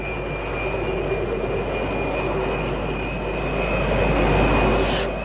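Aircraft engines give a steady, loud roaring drone with a thin high whine running through it, holding level throughout with no voices.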